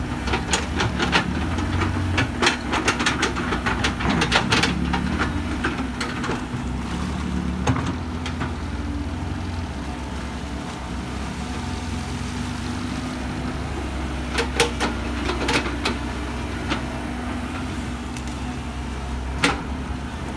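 A Komatsu PC excavator engine drones steadily at a low pitch, with occasional sharp clanks and knocks over the constant rumble.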